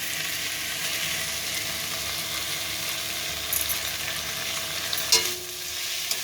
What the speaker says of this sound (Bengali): আলু আর ভেন্ডি ভাজাটার মধ্যে একটা ডিম দিয়ে দেবো